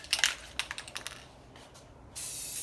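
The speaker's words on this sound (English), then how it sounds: "spray it over the yellow" Several short rattling clicks and quick hissing bursts from a can of Krylon spray paint, then a steady spray hiss that starts abruptly and continues to the end.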